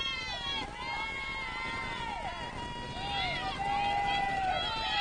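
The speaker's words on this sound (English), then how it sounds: "It's a rowdy crowd." Rowdy crowd at a softball game, a steady mass of cheering and shouting voices that rises and falls, with a few shrill calls standing out over the babble.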